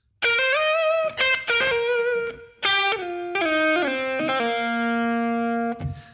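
Distorted electric guitar playing a ballad solo lick in Eb tuning, major pentatonic phrases with bends and sustained notes, loud and close, alone with no talking.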